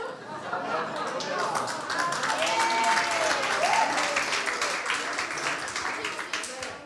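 Audience applause in a church sermon setting, a dense steady patter of many hands clapping throughout, with some voices murmuring underneath.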